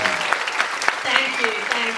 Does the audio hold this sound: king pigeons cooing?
no